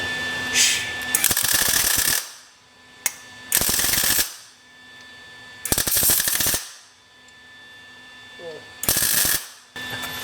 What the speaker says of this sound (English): So we're going to weld this trailer hitch bracket to this.